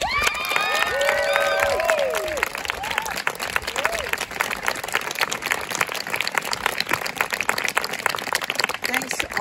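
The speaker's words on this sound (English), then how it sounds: "give them a heartfelt round of applause" A graduation audience in a hall applauds with sustained, dense clapping and a few cheers early on, steady and loud for the whole stretch, with no talk.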